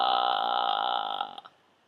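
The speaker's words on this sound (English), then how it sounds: "The other thing you can do to relax your larynx is to do something called vocal fry." A voice demonstrating vocal fry for singing practice, a low creaky sustained tone lasting over a second before trailing off into brief crackles, close and alone.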